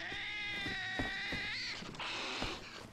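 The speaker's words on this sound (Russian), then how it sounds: "Коты, походу, пришли." Cats meow and caterwaul in the survival video game DayZ, several drawn-out, wavering yowls in sequence, fairly quiet and close, with no talk over them.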